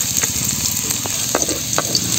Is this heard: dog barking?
no